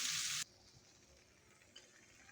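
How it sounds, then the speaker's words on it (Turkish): Semolina roasting in melted butter for helva gives a loud, bright sizzle that cuts off abruptly, leaving a faint quiet crackle and scrape afterward. "Şimdi irmiğimi ilave ediyorum. Ve pembeleşinceye kadar güzel bir şekilde kavuracağım"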